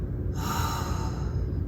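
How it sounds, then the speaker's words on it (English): A deep, audible breath drawn in through the nose as a breathing exercise, one long steady inhale heard up close over faint background hum. "So I'm gonna close my eyes and do some breathing, and you wanna do like audible breathing too"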